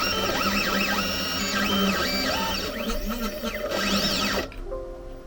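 A Genmitsu 4040pro CNC machine moves back to its work origin, its stepper motors whining continuously with sweeping rising and falling pitches, loud and close, before settling near the end.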